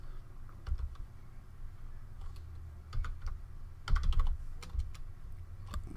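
Keys clatter on a computer keyboard in scattered bursts of quick clicks, close and fairly quiet, with a denser flurry of typing near the middle and short pauses between runs.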